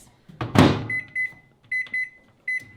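An 800-watt microwave oven being set: a clunk of the door or handling, then a string of short electronic keypad beeps in quick pairs, close and clear.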